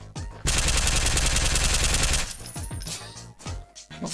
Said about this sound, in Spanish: Escuché disparos.